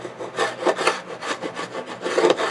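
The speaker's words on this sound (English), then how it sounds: "Scrape the wax off of that." A scraper tool rasps wax off an old wooden frame in a quick series of close, rough scraping strokes, steady and rhythmic throughout, with no talking.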